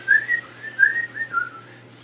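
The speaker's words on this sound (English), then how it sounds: "let me whistle for him." Someone whistles to call a friend, a two-second run of bright, sliding whistled notes in quick rising and falling phrases, close and clear with no voices.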